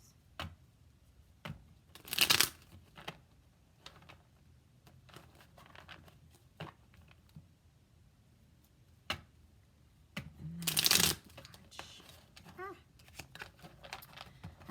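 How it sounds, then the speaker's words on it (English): Psychic reading cards are shuffled by hand in two brief riffling bursts, separated by scattered soft taps and clicks in a quiet room. "My hands were being so stiff and not wanting to shuffle those cards."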